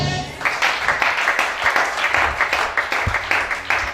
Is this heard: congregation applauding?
yes